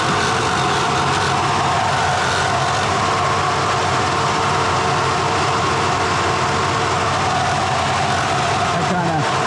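A 1957 Chevrolet Bel Air engine with shorty headers and a billet intake runs steadily, giving a loud, continuous throaty rumble throughout.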